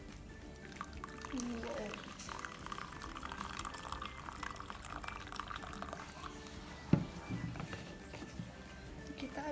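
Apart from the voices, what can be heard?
hot water being poured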